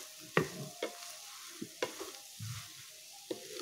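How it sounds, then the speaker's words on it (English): Cabbage is stirred in a frying pan, with a few scraping spatula strokes and soft knocks against the pan over a faint, steady sizzle, close and with no speech. "Okay, mix well."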